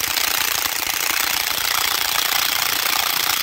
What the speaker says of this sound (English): The bit is long enough to go all the way through the mortar.